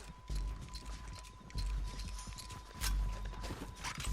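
Horse hooves clip-clop in Red Dead Redemption 2 in quick, uneven bursts of thudding steps that come in a few clustered runs, with faint game background underneath.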